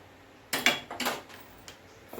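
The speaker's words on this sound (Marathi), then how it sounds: "चला आता गॅसवरती तडका पॅन ठेवूया." A metal tadka pan set down on a gas stove in a home kitchen, giving a few sharp clanks and scrapes in quick succession, close and fairly clear.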